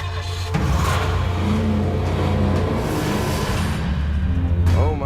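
Several car engines rev loudly and steadily at the start of a game show round, a continuous roaring drone with a rising whine near the end, mixed with faint crowd or voice sounds.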